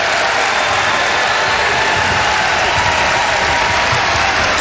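Clemson basketball fans in a limited-attendance arena cheer and applaud in a continuous, loud wash of crowd noise with no breaks.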